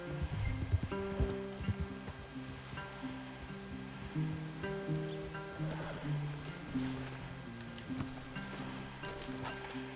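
Horses in Red Dead Redemption 2 move through trees, their hooves clip-clopping steadily at close range against a soft outdoor ambience, with occasional snorts.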